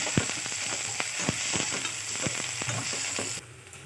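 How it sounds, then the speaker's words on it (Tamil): Onions, green chilies and curry leaves sautéing in hot oil, a bright continuous sizzle with regular spatula knocks and scrapes close by, the frying dropping in intensity near the end. "எண்ணெய் விட்ட பிறகு வெங்காயம் போட்டுக்கோங்க. பச்சை மிளகாய், கருவேப்பிலை அது கூடவே சேர்த்து ஆட் பண்ணிக்கணும். நல்லா வதக்கி விட்டுக்கலாம்."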